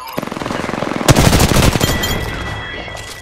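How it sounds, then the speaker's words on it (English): Rapid automatic gunfire rattles in the video game Apex Legends, a fast close burst of shots with a heavier blast partway through and echoing reports that fade out afterward. "Getting shot at."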